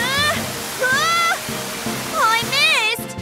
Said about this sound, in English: And spray them with water.